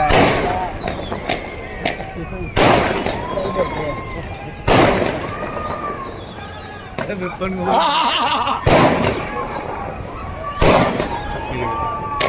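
Firecrackers burst outdoors near flying pigeons, a series of loud sharp bangs at irregular intervals, each followed by rumbling decay, with people talking between blasts.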